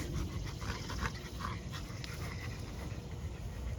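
A dog pants rapidly and steadily, with quick rhythmic breaths close by and a soft whimper mixed in.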